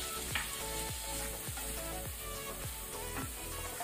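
Prawns frying in a pan on a medium flame for Mangalorean prawn curry, a loud busy sizzle with repeated rhythmic stirring scrapes, close and without talk.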